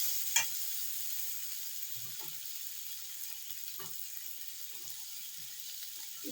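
Tomato with salt sautéing in a pan for rasam, a faint low sizzle with a few soft stirring scrapes spaced through the quiet.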